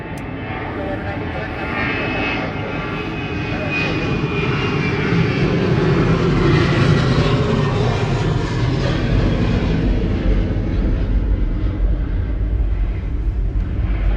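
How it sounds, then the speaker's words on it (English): Airbus A380 engines at LAX roar in a sustained, loud broadband rumble that swells gradually and holds for many seconds, dominating the scene. "Sound from the A380 was amazing."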